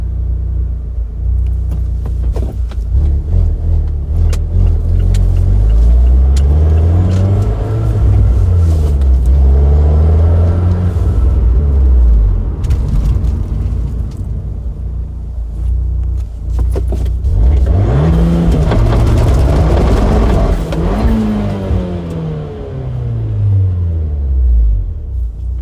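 A big-turbo Abarth 124 Spider accelerates hard through the gears, its engine rising in loud, close, rumbling sweeps with pauses at each shift, then a second hard pull later on.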